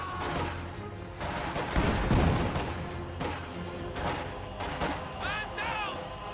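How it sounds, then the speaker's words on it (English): A high-explosive barrage from a ZiS gun in a video game battle, with a heavy boom swelling around the middle and sharper blasts and scattered battle noise around it. "High explosive barrage going off from the Zis gun up there."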